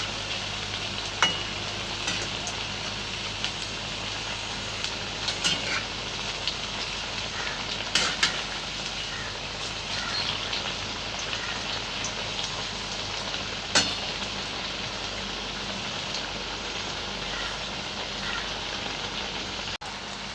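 Bottle gourd fritters fry in hot oil in a pan, a continuous close sizzle with scattered pops and a few sharp clicks of turning, no talking.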